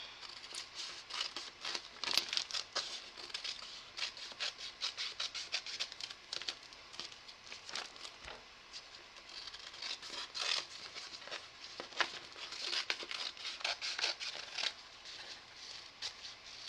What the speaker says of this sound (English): And I'm going to cut around it.